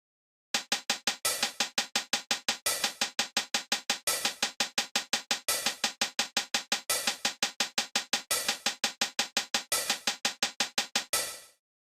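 A synthwave hi-hat loop repeats for several bars: rapid, steady closed hats with a sustained open hat recurring every few beats, bright and upfront with nothing else playing.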